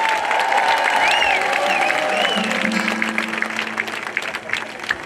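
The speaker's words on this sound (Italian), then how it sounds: "Un applauso forte allora." A louder burst of audience applause at an Italian music show, sustained dense clapping with some cheering over about five seconds. Voices and a held musical tone sound beneath it before the clapping begins to thin.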